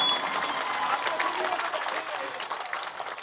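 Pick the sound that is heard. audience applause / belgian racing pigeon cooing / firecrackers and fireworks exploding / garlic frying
audience applause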